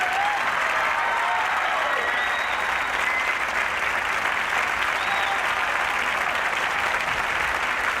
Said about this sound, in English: Let's have a real cheer for them.